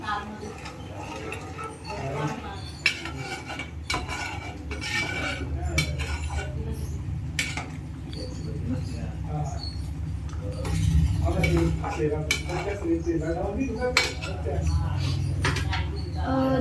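Paneer is stirred into palak spinach gravy in a pan, with scattered clinks and scrapes of a spoon against the pan beneath someone talking throughout.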